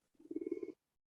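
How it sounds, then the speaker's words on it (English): A single short telephone ring during a school talk, a buzzy electronic trill lasting under a second, faint and alone before silence. "The ringing bell distracted my stream of conscious attention here."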